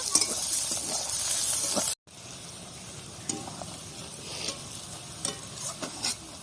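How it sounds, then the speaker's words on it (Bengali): Chopped onions frying in a pan, a continuous sizzle with scraping stir strokes. The sizzle is louder at first, cuts out briefly, then returns softer with intermittent stirring clinks. "পেঁয়াজটা আমি ভালো করে ভেজে নেব"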